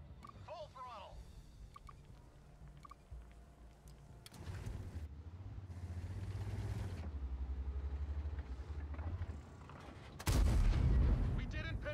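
Tank cannon fire from a Foch B in World of Tanks: a couple of heavy booms, the loudest near the end, over engine rumble, with voices talking.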